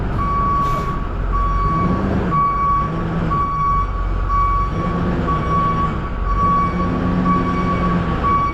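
A truck maneuvering into a tight parking spot, its reversing alarm beeping in steady, regular pulses over a low, continuous engine rumble, close and loud.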